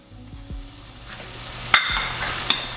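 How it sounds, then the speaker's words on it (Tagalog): Butter chicken sauce sizzles steadily in a pan, a soft continuous frying hiss broken by a couple of sharp scraping knocks as a utensil stirs it close by. "Haluin nyo lang hanggang sa mag-thicken yung sauce."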